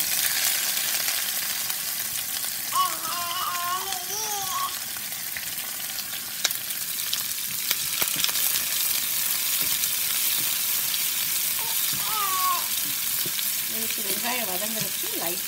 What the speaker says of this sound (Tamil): வெந்தயம் உளுந்தம்பருப்பு நல்லா செவந்த உடனே நம்ம வந்து வெங்காயம் போட்டுடலாம்.